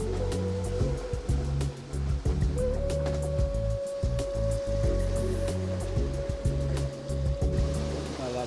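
Wild, choppy sea water sloshing and rushing around a sailing boat near reefs in Indonesia, a steady close wash with a low hum running underneath.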